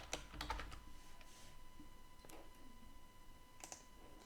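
Keys are pressed on a computer keyboard while a password is entered, a few short scattered clicks close by with quiet pauses between them.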